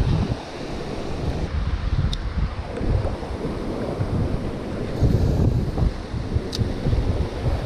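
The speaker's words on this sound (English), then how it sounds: "Working with this wind, it's really a pain in the butt." Strong wind buffeting the microphone on the rocky Oregon coast while rock fishing, a loud continuous roar with gusty swells and surf rumbling underneath, no voices.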